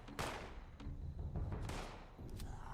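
Gunfire at mines in Fallout 76 comes as a quick cluster of sharp shots and booming blasts, loud and dense over less than three seconds.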